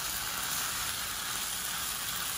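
Potatoes fry in a pan with a dense, even sizzle and hiss that holds steady throughout, close and continuous with no talking.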